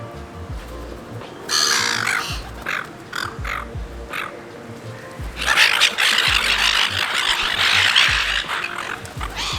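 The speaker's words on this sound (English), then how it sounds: "Seagulls are assholes." Gulls calling from the sky in noisy bursts, harsh repeated cries in two clusters, loud and fairly near over a busy background.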